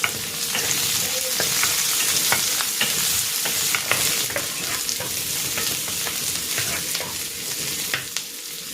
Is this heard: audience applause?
no